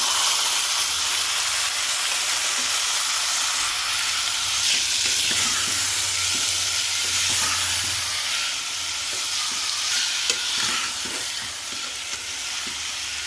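Tomatoes frying in a pan for thotakura curry, a steady loud sizzle and hiss with occasional stirring scrapes and pops throughout.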